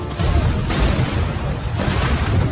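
A drone strike blows up a truck in a video game: a loud, rumbling blast with heavy low-end boom, followed by sustained crashing debris and a second surge of roaring noise.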